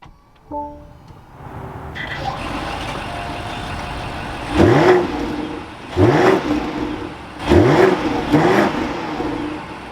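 A 2024 BMW X5 M60i engine cranks and catches via push-button start, then idles before revving hard three times in close succession, close and loud.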